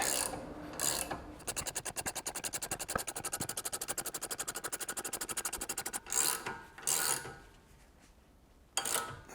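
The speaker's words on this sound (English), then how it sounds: "by winding this nut here, we're gonna pull the drive shaft in" A nut being wound on a puller tool to draw a drive shaft into a V12 BMW E31 850 during restoration: a fast, even run of close ratcheting clicks for several seconds, then a few separate scraping turns and a pause.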